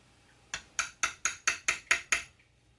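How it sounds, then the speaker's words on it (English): Eight light, sharp metallic taps of a hammer on a center punch marking a Telecaster guitar part, evenly spaced and close, ringing briefly after each strike. "Center punch."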